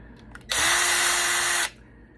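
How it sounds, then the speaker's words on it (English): A screwdriver backs a screw out of a Maxtor Fireball 3 40 GB hard drive, a single close, high whirr lasting just over a second before stopping abruptly. "I'm lucky with the screwdriver today."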